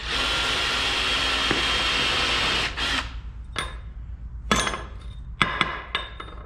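Hammer taps on metal center-punching the start of a drill hole during a wrist pin repair: a steady machine hum, then several sharp, ringing strikes spaced irregularly, close and clear.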